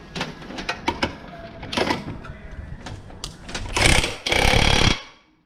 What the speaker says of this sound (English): And the bolt. Hit it with the impact.